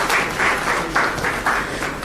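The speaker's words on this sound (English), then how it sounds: "Let's clap to that." An audience at a youth employability forum at All Nations University claps steadily, with the applause pulsing in even waves and no talking over it.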